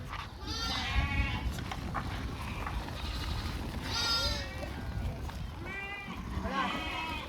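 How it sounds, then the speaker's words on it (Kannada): A flock of sheep and goats bleats repeatedly at a shepherds' pen in Ramanagara, several overlapping cries rising over steady nearby rustling and a low murmur of voices. "ಎಷ್ಟು ಖುಷಿಯಾಗಿ ಕುರಿಗಳು ನಿಂತ್ಕೊಂಡು ಕುಣಿದಾಡ್ತಿದ್ದೇವೆ"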